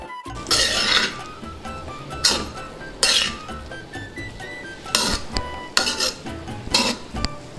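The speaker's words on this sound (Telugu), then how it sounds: "ఇది మొత్తం కలిసేలాగా కలుపుకుందాం" A spoon stirs mint rice in a pot, giving repeated metallic scrapes and clinks in irregular bursts, close and fairly loud, with quieter gaps between strokes.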